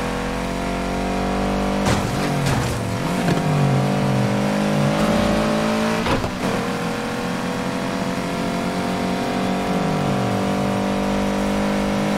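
A car engine in Need for Speed Heat drones steadily at high revs, with its pitch dropping and rising as gears change, loud and continuous throughout.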